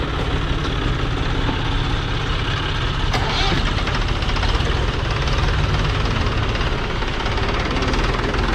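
A loader filling a tractor trolley with manure on a farm road, its diesel engine running steadily and loud at close range throughout, with a knocking low rumble and no speech.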